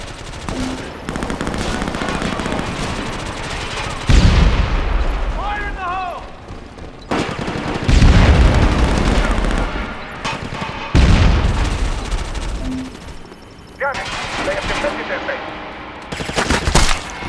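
Rapid automatic gunfire and heavy weapon bursts rattle through a Socom 4 multiplayer match on the Departure Last Defense map, dense and loud in repeated long volleys, with game radio voice chatter and announcements mixed in.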